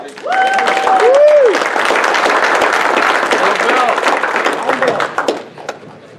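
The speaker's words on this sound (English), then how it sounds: "Big round of applause for Billy Taylor." A banquet crowd at a motorsports park gives sustained applause for a racing driver, dense clapping that fills the room, with a voice heard briefly at the start and the applause fading out near the end.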